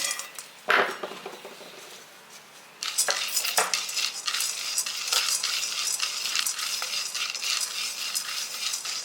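Fried gram being dry-roasted in a pan, stirred with a utensil: after a short clatter and a brief lull comes steady, close scraping and rattling of the dry pulses against the pan, with no one speaking.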